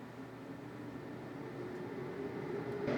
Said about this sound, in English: I'm going to turn on the fan, so excuse the noise